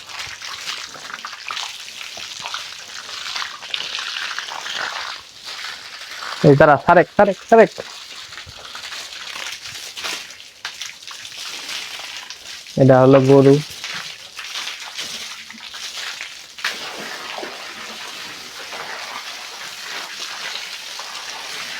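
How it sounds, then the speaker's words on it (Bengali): Water sloshing and splashing steadily while a heifer calf is bathed in cold water, with people talking nearby in a few short stretches. "এটা হচ্ছে বকন বাছুর, এটাকে গোসল করাচ্ছি"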